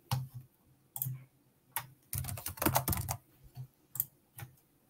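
Answers are typed on a computer keyboard: irregular bursts of crisp key clicks, some quick clusters and some single taps with short gaps, close and clear, no talking.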